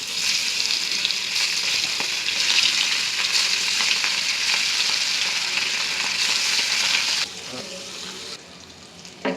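Puti fish fry in hot oil for a chachchari, a loud, continuous sizzle that drops to a quieter crackle near the end.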